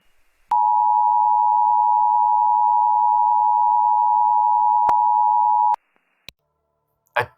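A single steady alert tone sounds alone for about five seconds, loud and unwavering, then cuts off with a click, followed by a couple of sharp clicks and a brief burst of noise.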